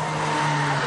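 A Renault 21 with a 2-litre turbo engine on a race circuit gives a loud, steady engine drone with a tyre-squeal edge, brief and continuous, with no talk.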